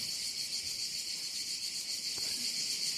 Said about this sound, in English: It was the sound of a cicada. Well, many of them.